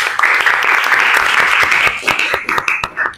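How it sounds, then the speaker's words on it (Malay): Classroom applause for a student, a loud burst of many hands clapping close by that thins into scattered claps as it ends. "Okey, tepukan untuk Aiman."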